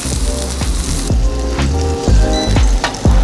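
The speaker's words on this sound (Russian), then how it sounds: "Подкидываем тартар из фенхеля и сливы. Обжариваем еще 15 секунд и снимаем." Pike perch fillet with fennel and plum tartare fries in a pan with a loud, dense sizzle, broken by a regular series of deep thumps and clanks from the pan being tossed, with no voices.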